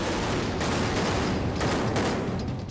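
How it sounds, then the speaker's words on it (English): Rapid consecutive gunshots ringing through a restaurant during the Mumbai attack, a dense, loud fusillade of overlapping bursts with no pause. "we heard consecutive shots just ring through the restaurant."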